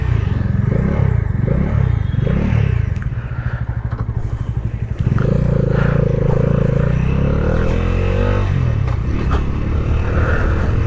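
A Bajaj Dominar 400 motorcycle rides on city streets, its engine thrumming and revving up and down with wind rumble and road clatter, loud and close, without audible talk.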